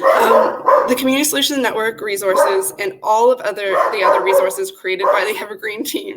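A dog barks and yips intermittently in the background during an online presentation, the short bursts sitting under a person's continuous speech.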